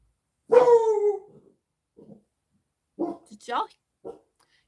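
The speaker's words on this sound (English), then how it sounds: "Can y'all hear the dog?" A big female hound-type dog at home during a crochet session barks once loudly and drawn out, then gives a few shorter, quieter yips and whimpers spaced over the following seconds, with no other sounds around.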